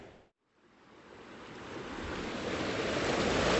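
Woodland stream water cascading over drops, a broad rushing wash that starts after a brief silent gap and swells steadily louder, continuous and close, with no voices.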